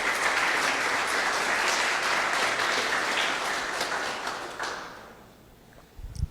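A church congregation applauds during a sermon on the heroes of faith, a dense, steady wash of many hands clapping that holds for several seconds before tapering off, followed by a couple of close knocks.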